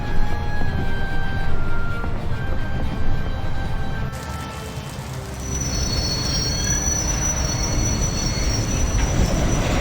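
Train rolling along the tracks in the video game A Golden Wake, with a steady rumbling roar and long, high squealing wheel tones, loud and continuous throughout with no talk.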